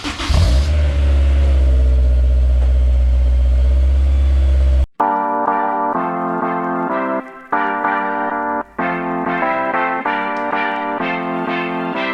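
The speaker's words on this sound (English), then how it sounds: "Cold start, baby." A Honda S2000 fitted with a J's Racing 60RS dual titanium exhaust cold-starts with a loud, raspy roar that settles into a high idle for about five seconds, then cuts abruptly to music.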